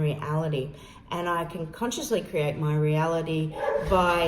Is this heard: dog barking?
yes